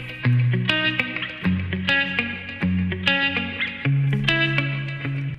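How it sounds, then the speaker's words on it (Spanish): A TC System 6000 VSS4HD reverb plugin applied to a loud, distorted electric instrument playing a riff of chords and plucked notes, each hit trailing into spacious reverberation, with no voices. "Usamos la cantidad de reverb sobre el audio."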